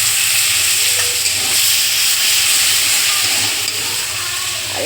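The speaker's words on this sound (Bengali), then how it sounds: "অল্প করে জল দিয়ে কষিয়ে নেব।" Water poured into a pan of spiced prawn masala cooked with chilli powder, turmeric and Kashmiri red chilli, giving a loud continuous hiss and sizzle of frying that stays dense throughout.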